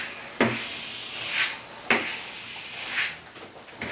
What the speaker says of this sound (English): Now I want to take my squeegee and go right down the middle